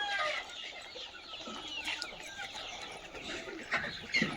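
Broody hens sitting on eggs and other chickens on a farm cluck and chirp over a constant busy background of many birds, with a few louder calls standing out near the end.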